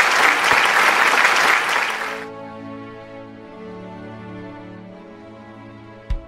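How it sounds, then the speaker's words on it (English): Recorded applause for school performers at a senior high school event, a bright burst of clapping for about two seconds that stops abruptly as sustained musical tones begin. "Let's give them a virtual round of applause."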